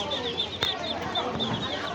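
Chickens cluck and chirp over a busy bird and livestock market din at Jinjira Bazar, with one sharp knock partway through.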